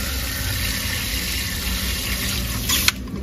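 Water runs into a container of liquid fungicide in a steady, close, broadband hiss and rush, with a brief clatter near the end and no talk.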